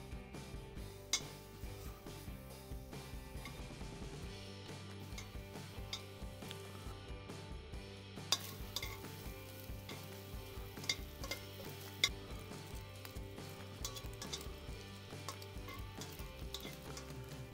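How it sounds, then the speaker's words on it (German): Bacon frying in a pan set on a grill, a steady crackling sizzle with frequent small pops and ticks, close and continuous throughout. "So, den Bacon schön kross angebraten."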